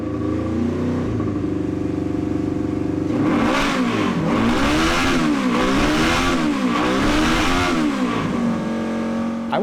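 A 46-year-old motorcycle engine, revving to around 12,000 rpm, idles briefly, then rises into a loud, close run of repeated high revs that climb and fall in waves before settling back to idle.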